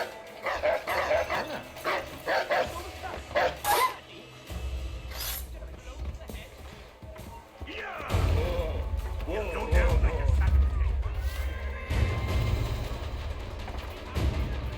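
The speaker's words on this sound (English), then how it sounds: "What's he barking at?" A dog in the video game Assassin's Creed 3 yips and barks in short bursts, mixed with a few thuds and crashes amid low rumbling game sounds, while people talk intermittently over it.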